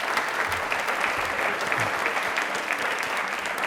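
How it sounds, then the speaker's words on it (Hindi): A quiz show studio audience breaks into steady applause for a correct answer, dense clapping held at an even level throughout with a faint voice briefly underneath. "तालियां प्लीज एक बार जोरदार बजा दीजिए"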